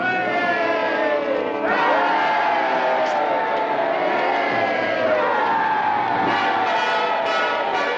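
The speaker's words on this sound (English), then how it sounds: "Come on, let me hear you cheering." A large crowd cheers and shouts together, a dense, loud, continuous roar from many voices with no pause, as rebels are ordered to acclaim a sheriff in a medieval drama.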